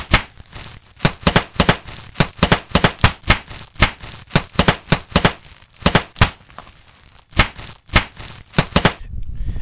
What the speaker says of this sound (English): That's the sound of all the shit blowing up in your driveway